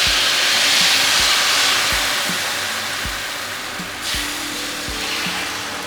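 Neer dosa batter is poured onto a hot pan over medium flame and hisses in a loud, continuous sizzle close by. Soft, regular low thumps sound underneath, and the hiss surges once midway.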